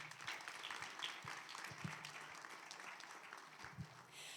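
Faint, distant applause from an audience at a youth mental health event, a thin patter of scattered claps holding steady throughout.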